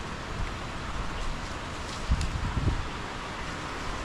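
Strong typhoon wind blows over a roofing project, a steady broadband roar with gusty low-end buffeting against the microphone. Brief louder gusts come near the middle, and no voices are present.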